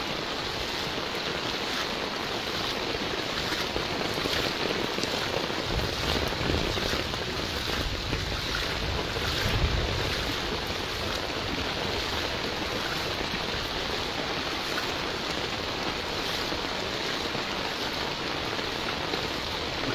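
Heavy rain falls over flooded streets in Dhangadhi, Nepal, a constant, even roar of water that holds steady, with a few louder surges of splashing close by.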